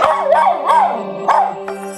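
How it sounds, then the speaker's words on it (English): A stressed dog left alone behind a closed door barks and then breaks into long, wavering howls, loud and close, with a steady electrical hum underneath throughout. "he's gone from just a little bit of whimpering to barking, to howling"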